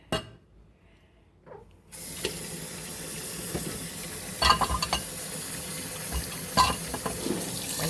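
Tap water gushes into a kitchen sink as baking bowls are set to soak with soap, starting after a quiet moment and then running steadily and close, with a few clinks of dishes.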